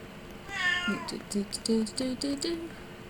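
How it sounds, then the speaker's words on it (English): A cat meows up close, one drawn-out call followed by a quick series of short, clipped meows. "Jonesy, I heard you meow behind me"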